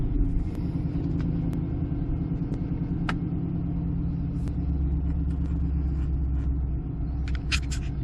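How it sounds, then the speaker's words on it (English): Cold start of a 2014 Chevy SS engine: a steady, loud low rumble holding at an even idle throughout, with a few faint clicks and ticks above it and no talking. "that's a nice cold start of the SS"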